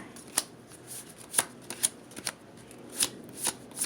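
Cards being laid onto piles during a card reading, a series of soft, sharp slaps and flicks at irregular intervals, close and fairly quiet, with no talking.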